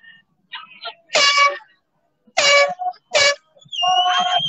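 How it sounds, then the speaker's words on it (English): Air horn blasts at a Blue Lives Matter street rally in Portland, Oregon in August 2020: several loud, close, harsh bursts of varying length, the last one held longest, with the sound of people around them. "He's doing an air horn."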